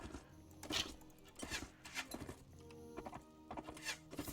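Horse hooves in Mount and Blade, a rapid galloping clip-clop rhythm of repeated beats at moderate distance, with game ambience and no talk.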